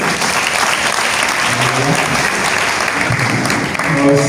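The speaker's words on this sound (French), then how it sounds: "on acclame bien encore pour elle" An audience applauds steadily and loudly at a Catholic Charismatic Renewal gathering honouring a shepherdess, dense clapping filling the whole stretch without a pause.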